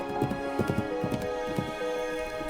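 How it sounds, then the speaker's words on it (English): Horses' hooves approach as dragoons arrive on the Norfolk coast, a run of irregular clip-clop thuds that are moderately loud over a steady tonal background. "the sound of approaching horses was heard"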